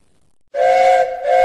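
A steam train going downhill blows its whistle loud and close in one long sustained blast, dipping briefly before sounding again, with a hissing edge.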